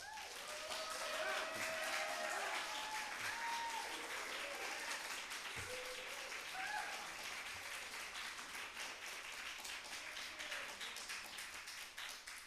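Steady applause from an audience at a New York City public meeting, a dense patter of many hands that holds at an even level and fades gradually near the end.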